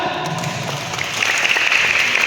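A crowd at a community feeding event bursts into steady, loud applause that swells slightly toward the end, with a voice briefly audible beneath the clapping.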